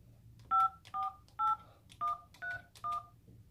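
Six telephone keypad tones entering a client ID on a phone interpretation line, each a short, clean dual-pitch beep spaced about half a second apart over a quiet line.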